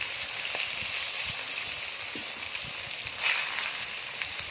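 Marinated pieces fry on a gas stove at an outdoor picnic, giving a loud, continuous hissing sizzle with scattered soft pops and a slight swell near the end.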